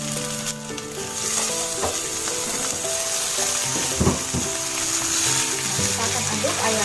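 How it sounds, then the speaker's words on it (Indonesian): Surinamese-style chicken and onions fry loudly in a frying pan, a dense close sizzle with spatula scrapes and clanks as the pieces are stirred. "Nah, kita akan aduk ayamnya bersama dengan bawang ini."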